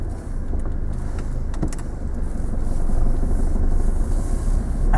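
A car engine runs steadily and builds slightly as the vehicle pulls away on a road during a driving lesson, a close, continuous motor hum with no talking.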